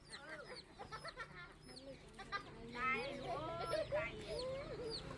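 Chickens clucking at a rural Thai homestead, a busy flock giving repeated close clucks and short squawks throughout, with a voice murmuring in the background.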